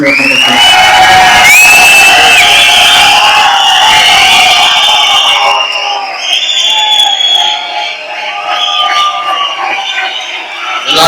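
At a film event, a loud, packed audience cheers and shouts for actor Soori. The whistles and whooping are dense at first, then thin into scattered calls and a quieter roar before swelling again.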